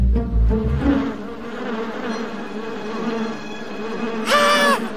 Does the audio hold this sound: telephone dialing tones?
no